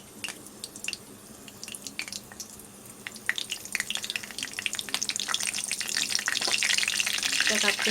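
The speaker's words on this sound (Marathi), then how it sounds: "आता मी यामध्ये टाकणार आहे कढीपत्ता" Curry leaves crackling and sizzling in hot oil for an egg curry, a dense run of sharp spits and pops building steadily louder toward the end, close up with no talking.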